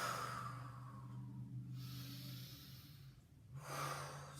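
A person breathes rhythmically during a movement routine with arms lifted, slow audible inhales and exhales close by, quiet and alone.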